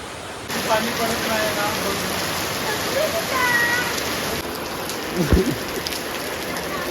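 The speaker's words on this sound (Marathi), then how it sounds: "अचानक भयानक पाऊस आलेला आपल्या गावाकडे" Sudden heavy downpour in a village, a loud, even wash of rain on surfaces that holds steady throughout, with a brief low thump partway through.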